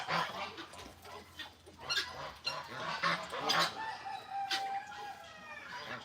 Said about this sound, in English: But that's my favorite rooster.